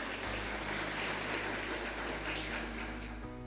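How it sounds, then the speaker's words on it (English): Audience applause at a documentary event, a continuous wash of clapping under a low steady hum that ends abruptly. "Let's give the Hand and Cup another big round of applause for all your support."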